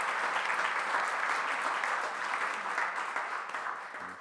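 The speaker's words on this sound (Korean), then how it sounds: "박수를 받으셨으니까 더 잘하시리라 믿습니다." A church congregation applauds the choir and its conductor at a Christmas service, a sustained, even wash of clapping in a reverberant hall that slowly fades toward the end.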